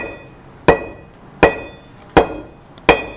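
Four sharp, evenly spaced strikes of a hand hammer on a steel 16-point surfacing tool against stone, each a crisp metallic crack with a short ringing decay, loud and close with no talking.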